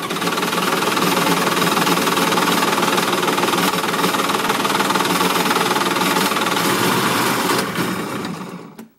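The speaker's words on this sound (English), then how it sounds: "pull the choke up, push the start button" A Polaris personal watercraft engine starts and runs at a loud, steady, rough roar, with a knocking mechanical texture. It cuts off abruptly near the end.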